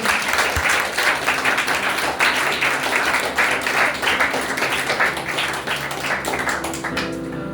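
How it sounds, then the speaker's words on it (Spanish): A church congregation claps loudly and steadily for several seconds at a Spanish-language sermon, dense continuous applause with a few sharper taps, tapering off near the end. "Denle un fuerte aplauso al Señor"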